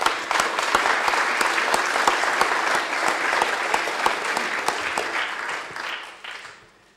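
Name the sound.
applause at council meeting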